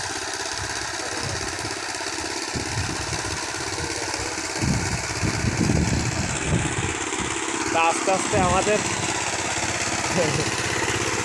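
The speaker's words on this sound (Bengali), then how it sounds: "তার গাড়িটা একদমই নর্মাল ইঞ্জিনের শব্দটা ভালো না" A power tiller's small engine chugs steadily throughout, sounding unhealthy, with a person talking over it close by during land cultivation in a village.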